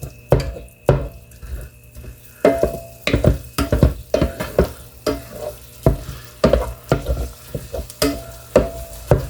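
Food in an electric skillet turned down to about 275 degrees, with a low, fading sizzle under repeated close scraping and stirring strokes of a utensil across the pan.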